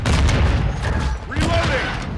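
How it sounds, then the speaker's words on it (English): Grenade blast amid Call of Duty: Modern Warfare II multiplayer combat, a loud close boom with scattered gunfire and rumbling battle noise around it. "Throwing grenade."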